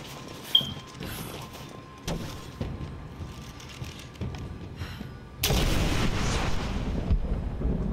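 An incendiary weapon in Rise of the Tomb Raider goes off: a few scattered thuds and shots, then a sudden loud explosive burst that swells into a sustained roaring fire rumble lasting several seconds.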